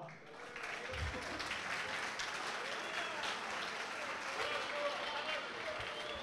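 An awards-party audience applauds the runner-up teams of the Copa AFIA Brasil Bahia 2018, a steady wash of clapping from the crowd, moderately loud throughout, with voices mixed in.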